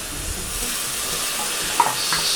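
Ginger garlic paste frying in a pan on low heat for a mushroom masala, a soft, steady sizzle close by, with a brief stir or clink near the end and no talking.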